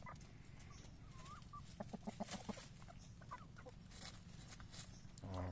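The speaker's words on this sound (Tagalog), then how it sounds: "native na manok" Native chickens cluck in a short series of sharp calls over a constant low farmyard rumble, the clucks clustered near the middle and fairly close.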